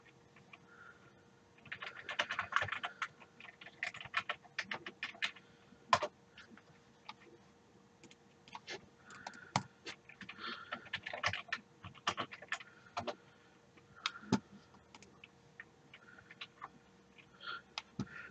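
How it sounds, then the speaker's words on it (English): Quiet, close computer keyboard typing in irregular bursts of clicks and taps, pausing briefly between runs, with no voices. "I figured this would be a nice way to isolate the noise from my keyboard"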